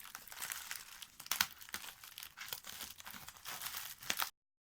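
A handmade craft package is unwrapped close up, with continuous crinkling and rustling of paper wrapping and a few sharper tearing crackles, then a sudden cut to silence; no talking.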